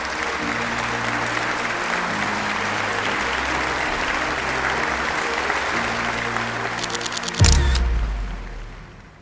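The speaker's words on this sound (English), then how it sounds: "Everybody once again clap for these children" Applause for winning children and their trainers at an Independence Day school event, sustained clapping from a crowd over steady background music, ending with a sharp jolt and fading noise.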